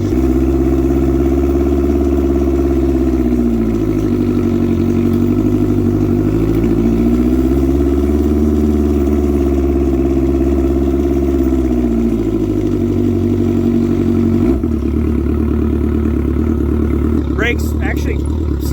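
Boosted crosskart engine running loud and close, a steady throbbing idle with gentle dips and rises in revs, ending in a short drop and some clatter near the end.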